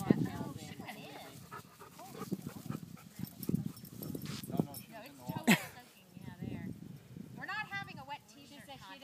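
A Weimaraner pants and whimpers in short rhythmic bursts close by, with a sharp bark-like yelp midway and faint jingling, while people talk over it.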